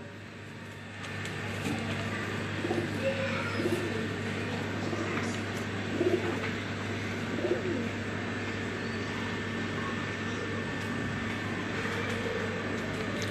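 Pigeons coo softly and repeatedly against a steady background hum, with an aircraft droning faintly overhead.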